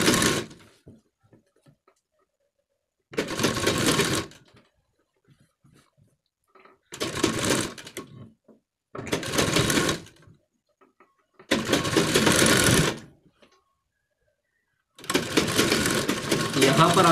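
A sewing machine stitches a collar neck in six separate bursts of rapid whirring, each one to two seconds long, separated by quiet pauses.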